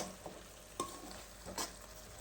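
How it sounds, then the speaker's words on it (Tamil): A spoon scrapes and stirs through thick masala for veg kurma in a pan, a few distinct scraping strokes over a faint sizzle. "இப்போ இதை நம்ம நல்லா மிக்ஸ் பண்ணிக்கலாம்."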